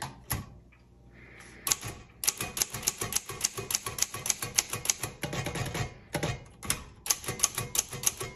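Rapid, uneven keystrikes clatter on a 1956 Underwood Universal manual typewriter, each a sharp close snap, coming in quick bursts after a quiet pause at the start, with no voices.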